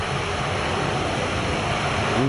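An AWACS aircraft flies over Waddington, a steady broad roar of jet engines that stays loud and constant, with a faint voice emerging at the end.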